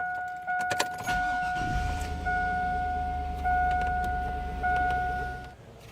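A truck engine being prepared for a Seafoam treatment starts up and settles into a steady, close idle, with a low rumble running under two sustained electronic tones.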